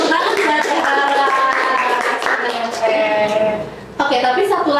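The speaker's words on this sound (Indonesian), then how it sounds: "kasih tepuk tangan buat Teh Rara" Applause from an audience greets a speaker named Teh Rara at an Indonesian university student event, a dense steady clatter of many hands lasting several seconds before it briefly dips and then resumes.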